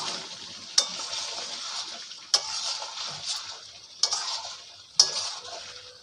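Chicken coated in spice paste being stir-fried in a pan for dahi chicken, a soft sizzle under four sharp metallic clinks of a spatula against the pan at uneven intervals, close and free of talk.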